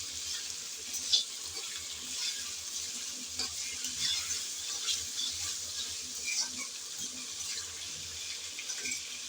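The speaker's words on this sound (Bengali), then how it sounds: "আদা রসুন দিয়ে আবারও ভালোভাবে নেড়ে চেড়ে ভেজে নেব" Ginger and garlic fry in a pan while being stirred for a pumpkin dish, a steady bright sizzle with soft scrapes and light clinks running throughout.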